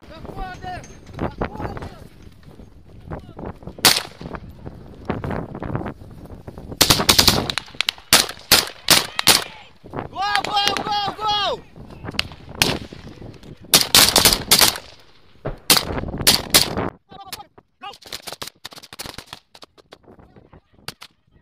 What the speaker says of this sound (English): start exchanging fire again